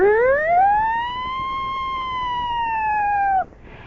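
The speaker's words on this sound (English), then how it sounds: "she made a noise that sounded like a siren" A single long siren wail rises and holds a steady pitch, loud and close, before cutting off abruptly.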